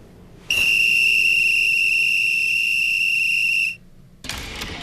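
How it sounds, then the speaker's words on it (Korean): A single long, shrill whistle blast at the Tokyo 2020 Paralympic opening ceremony, loud and steady for about three seconds before cutting off, followed by a brief burst of crowd noise. "호루라기를 불었습니다"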